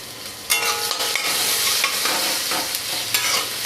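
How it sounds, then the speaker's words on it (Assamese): Onions and cumin seeds sizzle loudly in a pan while being stirred, with repeated scraping strokes and bursts of crackle over a continuous hiss, close up and with no voices. "এতিয়া ভালদৰে লৰাই দিছোঁ।"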